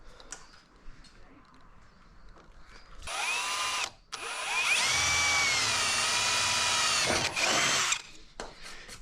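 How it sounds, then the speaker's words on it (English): A power drill whines loudly for several seconds, cutting off briefly and restarting, its pitch wavering as it bores a small hole through aluminium on a boat, with quiet ticks before and after. "I'm going to drill a small hole out there."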